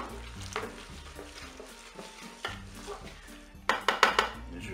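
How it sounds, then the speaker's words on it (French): A utensil stirs coquillettes and tuna inside a Cookeo multicooker pot, making soft scraping and a faint sizzle, then a quick burst of louder clinks and scrapes near the end, with brief talk. "Je vais mélanger."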